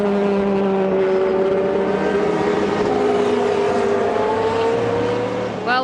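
An Alpine prototype race car screams past at full throttle during a European Le Mans Series race, its engine note holding a loud, steady pitch before a rising whine as it shifts near the end.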